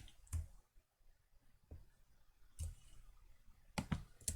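Computer mouse clicks while working in FreeCAD, a handful of sharp, quiet clicks spaced irregularly over a few seconds, including a quick pair near the end, against a near-silent background.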